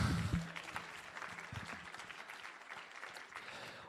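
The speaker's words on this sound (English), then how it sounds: "Applause for yourself." Conference audience applauding themselves at a WordPress event, steady scattered clapping heard faint and somewhat distant after a brief louder thump at the start.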